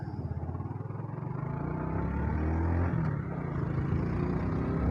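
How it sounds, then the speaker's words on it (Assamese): A Glamour motorcycle engine runs while being ridden, a steady low throb that grows louder and rougher over a few seconds as it pulls away, heard up close. "বাইক ষ্টাৰ্ট হৈ গ'ল অলৰেডি"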